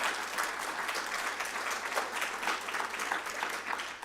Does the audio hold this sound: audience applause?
yes